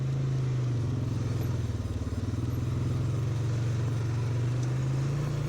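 A 2017 Polaris Sportsman 570SP ATV on stock tires drones steadily along a dry trail, its mid-pitched engine loud and close with a slight dip and rise in revs, no talk.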